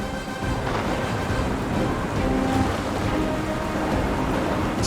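Steady heavy rain pours across the whole stretch, a dense even hiss with low rumbling underneath, close and loud, with no voices.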